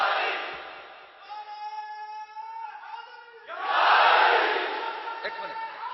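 At a religious gathering a large crowd roars the Naara-e-Haidari slogan in unison, with a long chanted call swelling into a loud, full collective shout that fades away.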